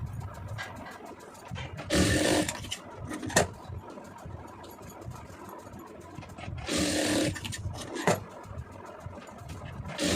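A sewing machine stitches a round neck piece onto a garment: two loud bursts of rapid stitching, each about half a second long, stand out over quieter handling clatter and intermittent clicks.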